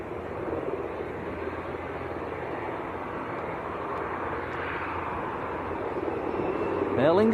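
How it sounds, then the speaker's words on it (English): An Aer Lingus ATR 72 turboprop airliner takes off at Leeds Bradford Airport, a steady broad engine roar that swells louder and nearer toward the end. "Aer Lingus to Belfast, ATR 72, here we go."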